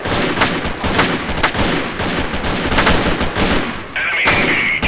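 Automatic weapon fire on full auto in the video game Freeman: Guerrilla Warfare, loud, rapid bursts of close-range gunshots repeating almost continuously, with a brief shift in tone near the end.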